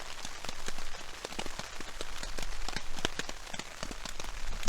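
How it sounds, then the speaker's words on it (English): Rain drums on a backpacking tent during a rainstorm, a dense, close patter of sharp drop hits over a steady hiss, continuous and fairly loud with no talk. "Still raining."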